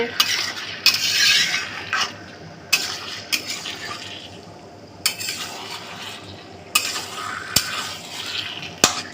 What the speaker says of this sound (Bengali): তারপর আমি এঁচড়টা আর আলুটা তুলে দিয়েছি। এটাও ভালো করে কষাতে হবে।